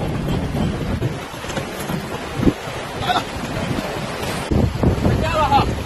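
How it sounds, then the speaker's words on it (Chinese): Wind buffets the microphone on a boat ride home across the sea after a day of tidal-flat fishing, with a steady rush of wind and water, occasional splashes and brief voices under the noise. "坐船回家喽， 跟我们一起坐"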